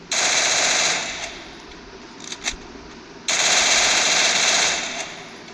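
Automatic gunfire in a shooting video game, two long loud bursts of rapid shots separated by a short pause with a few isolated shots in between.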